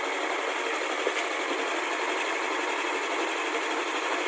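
Yamaha NMAX scooter engine running steadily, a close, even mechanical whirr and hum that holds unchanged throughout with no voices.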